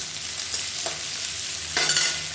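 Sliced onions frying in hot oil for a kurma. A steady sizzle runs throughout, broken by a couple of sharper bursts as the pan is stirred. No voices are heard.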